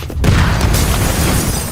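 A deep, loud blast from a grenade explosion in the game Mafia: Definitive Edition erupts after a brief hush and rumbles on as a dense, roaring wash without any speech.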